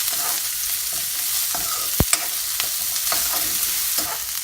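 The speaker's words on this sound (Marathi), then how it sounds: "आपण आता याच्यामध्ये मिरची, कढीपत्ता, कांदा या सगळ्यांची फोडणी देऊया" Chili, curry leaves and onion fry in hot tempering oil for Maharashtrian kande pohe, giving a steady close sizzle with a few sharp clinks of a spoon stirring in the pan.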